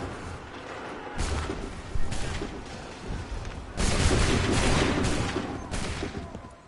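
Musket volleys in Assassin's Creed 3 crack out in several loud, ragged bursts of massed gunfire, each followed by a rumbling tail, with battle noise between.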